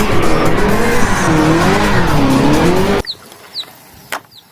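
A toy race car's tires squeal and skid loudly and continuously for about three seconds, then stop abruptly, followed by a few faint scattered clicks and knocks.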